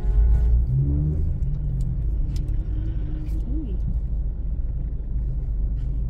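Heavy road traffic rumbles steadily nearby as car engines drone and idle, with a brief revving swell partway through.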